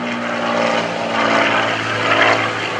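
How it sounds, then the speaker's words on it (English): A T-34 Mentor airplane with a 225 hp Continental engine flies at an airshow, its propeller drone loud and steady and swelling slightly as it passes. "That's a 225 horsepower Continental engine on board."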